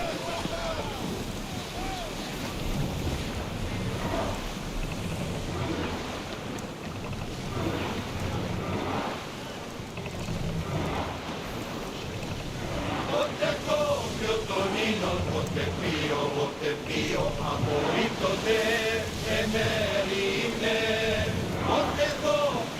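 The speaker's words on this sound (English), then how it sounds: "Get in position to sail!" Ship sailing on the open sea in Assassin's Creed Odyssey, with a steady wash of wind and water rushing under the hull, while crew voices and music-like tones sound over it.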